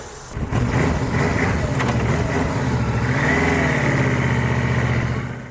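A Yamaha touring motorcycle engine, built to rival the Harley-Davidson Ultra Classic, runs close by with a steady low rumble for about five seconds, rising slightly as it revs.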